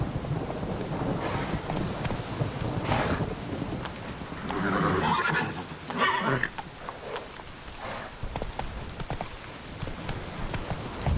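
Roach, a horse in The Witcher 3, gallops with steady hoofbeats under a rain and thunderstorm ambience, the rumble swelling midway as the ride continues.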